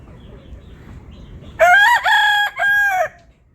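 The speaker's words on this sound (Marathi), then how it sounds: "कोंबडा पाहू शकता, खूप छान असा कोंबडा आहे" After a quiet moment, a nearby native village-breed rooster lets out a single loud, drawn-out crow in several strained bursts.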